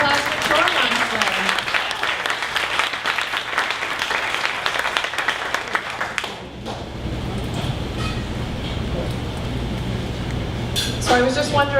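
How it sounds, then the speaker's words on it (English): Audience applause for a startup pitch at a 1 Million Cups entrepreneur gathering in Dallas, a full, steady crowd clapping for several seconds that gradually thins out, with voices surfacing near the end. "One more round of applause for ChoreMonstr."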